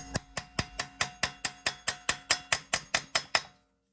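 Rapid, evenly spaced metallic hammer strikes on a pointed chisel, about fifteen sharp ringing blows close up, then silence, during axle removal on a 2006-2011 Honda Civic.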